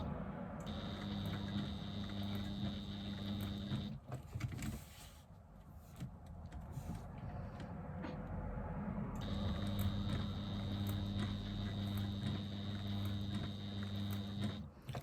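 A domestic sewing machine runs in a steady mechanical hum while stitching long and short stitches, pausing briefly in the middle before starting up again and continuing evenly to the end, with no one speaking.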